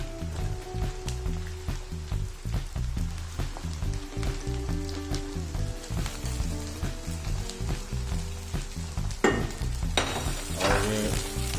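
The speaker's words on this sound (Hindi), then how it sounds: "जी, अब हम इसमें डाल देंगे हमारा कीमा।" Minced keema frying over high flame in a hot pan for aloo keema, a continuous crackling sizzle with rhythmic stirring and scraping knocks, brightening into a louder hiss near the end.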